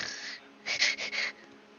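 A voice imitates a soft snore heard from behind a door: a breathy intake followed by a few short, raspy wheezing pulses, close and quiet.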